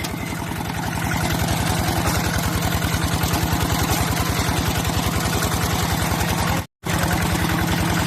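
A tractor engine chugs steadily while plowing a wet rice paddy, its loud, even, low throb running throughout, close by and unbroken apart from one very brief dropout near the end, with no voices.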